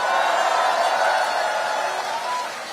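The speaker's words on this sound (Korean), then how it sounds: "우리 옆에 계신 분들 박수 한번 쳐주세요." Crowd at an outdoor political rally in Ulsan, a loud sustained roar of applause and cheering that swells early and then slowly fades, voices mixed into the din.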